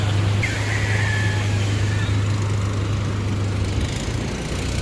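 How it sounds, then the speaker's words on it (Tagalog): Boat motors start and settle into a steady droning idle by the shore after a night of big waves, a continuous low hum near and loud with a brief higher whine early on. "Ayan, kanya-kanyang paandaran ng motor."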